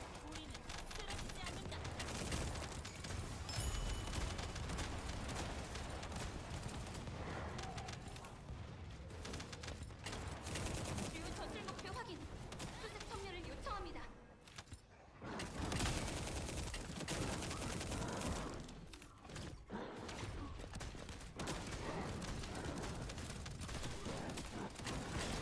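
Rapid gunfire in the video game The First Descendant fires in long, dense bursts with short pauses, loud and continuous, with someone talking over it at times.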